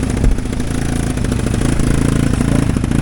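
A golf cart with a three-wheeler engine swapped in runs loud and close, a rough rhythmic motorcycle-like putter with rattling clatter, holding a steady pace throughout.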